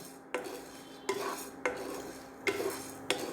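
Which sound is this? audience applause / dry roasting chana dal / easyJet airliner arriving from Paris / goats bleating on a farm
dry roasting chana dal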